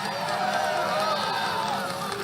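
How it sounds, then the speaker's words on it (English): Crowd at a Trump Make America Great Again rally in Greenville clapping and cheering, a dense, steady roar of applause and voices that holds at the same level throughout. "Well, don't clap too hard."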